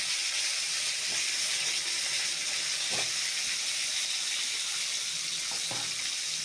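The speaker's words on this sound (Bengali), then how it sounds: "তেল গরম হয়ে যাওয়ার পর মাছগুলোকে আমার মা এভাবেই একে একে তেলের মধ্যে ছেড়ে দিচ্ছে" Pieces of hilsa fish dropped one by one into hot oil in a home kitchen, giving a steady bright sizzle throughout with a few soft splashy bursts as each piece goes in, close and fairly loud with no talking.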